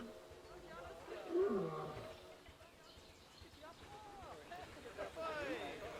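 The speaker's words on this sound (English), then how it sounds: "Panthera leo leo, or the West African lion to you and me." A West African lion in the zoo-building video game Planet Zoo gives a low, moaning roar near the start, followed by fainter grunts, under a steady background of park ambience.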